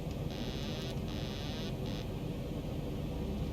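Boeing 737 Zibo Mod landing in a flight simulator on approach to Mallorca: a steady, fairly quiet engine and wind roar, with a few high electronic tones switching on and off over it.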